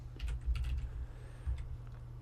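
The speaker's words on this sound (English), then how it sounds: "I will probably have to type this in directly." Soft clicking of a computer keyboard, a short burst of quick keystrokes heard close up and fairly quiet with no talking.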